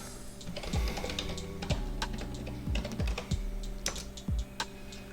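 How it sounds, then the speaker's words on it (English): A password is tapped out on a computer keyboard at a Windows server login, a close run of irregular key clicks and heavier thuds with no one talking. "You want to type in your password."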